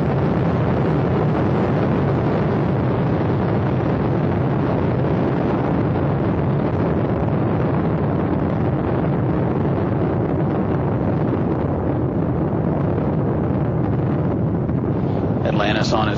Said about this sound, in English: all three engines now throttling down as the area begins, as the vehicle passes through the area of maximum dynamic pressure